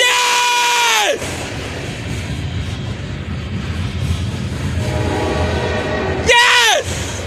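A CSX Georgia Railroad heritage locomotive, unit 1834, hauls a southbound coal train with distributed power through Tullahoma, Tennessee. Loud horn blasts open and close the clip, with a steady rolling rumble between them and excited shouting over it.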